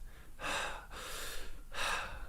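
A person imitates a gasp for breath after holding it, three loud, rough inhalations in a row, each a long breathy rush separated by brief pauses, close up with no talking.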